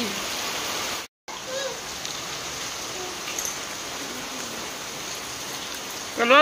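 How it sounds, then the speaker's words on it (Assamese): Steady, heavy rain pours down during a rainy spell in Assam, a dense continuous patter and hiss throughout with a short break in the sound near the start. "এইফালে দেখিছেনে কেৱল বৰষুণ"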